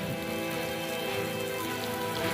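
Heavy rain pours during flooding that swells a river, a dense, constant roar of drops hammering surfaces, loud and unbroken with no one speaking.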